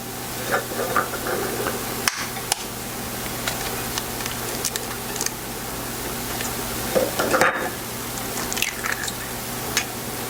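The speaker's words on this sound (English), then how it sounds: "put my eggs in a mixing bowl and to lightly blend them" Eggs being lightly blended in a mixing bowl for a chess pie, producing a steady wet stirring and squishing with faint clicks, close and moderately loud throughout, with no talking.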